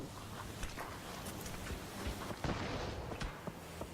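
Grenades burst during a competitive video game match, a scatter of muffled blasts and sharp cracks over a constant busy noise bed, fairly quiet throughout.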